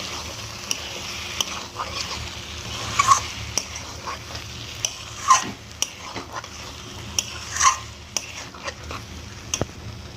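Fried eggplant is stirred into Malabar spinach greens cooking with hilsa fish head in a pan: a faint low sizzle under repeated scraping clinks of a spatula against metal, coming every couple of seconds, with no talking.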